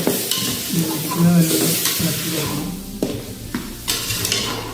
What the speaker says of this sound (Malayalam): ചിക്കൻ്റെ എല്ലാ ഭാഗങ്ങളിലും മസാല എത്തുന്നത് വരെ ഇളക്കി കൊടുക്കാം